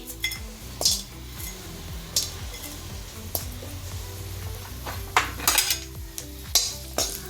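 Mace (rampatri) roasts in hot oil in a pan with a steady sizzle, while a spoon scrapes and clinks against the metal in irregular stirring strokes, close and moderately loud.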